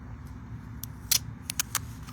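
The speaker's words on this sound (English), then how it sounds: "That's the sound of tape releasing." Journal tape peeling off its backing, heard as a few short crackling rips close by, with one longer pull near the middle and quick bursts after it over a low background hum.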